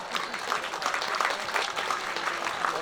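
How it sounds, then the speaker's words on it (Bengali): College students give a dense, sustained round of applause to welcome the Education Minister at Gobardanga Hindu College, an even clatter of many hands from a large hall crowd, without talk. "সকলে বিপুল করতালি দিয়ে একবার অভিবাদন জানান, স্বাগত জানান"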